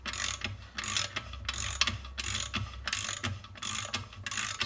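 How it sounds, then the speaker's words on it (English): A 21 mm socket wrench undoes a bolt on a Land Rover Defender Puma MT82 gearbox during a stripdown, giving five or six loud bursts of rapid ratchet clicking with short pauses between strokes. "Okay, so 21mm socket. I'm going to start undoing this bolt and see what happens."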